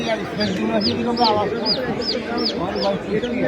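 A colourful chicken makes repeated short clucks and calls at an even rhythm, up close, while people talk over them the whole time.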